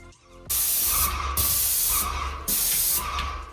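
A new Titan airless sprayer applying PVA drywall primer, loud close hissing bursts of spray, three long passes separated by brief breaks.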